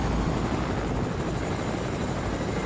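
Choppa helicopter in the video game Fortnite, a steady, loud rotor whir and engine drone running continuously throughout without pauses.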